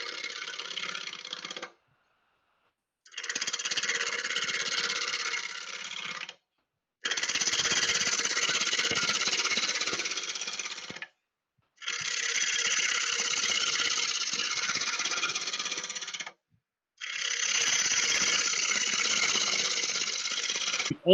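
A wood lathe spins a cracked wooden bowl in bursts, each run a steady, loud whirring drone lasting a few seconds before cutting out, repeated five times with short silent gaps between.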